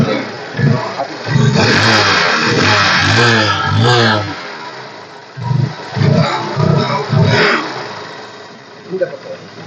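A 2019 Bajaj Pulsar 180F motorcycle engine revs and runs beneath steady close-up talk, its rough mid-range drone swelling briefly between stretches of speech.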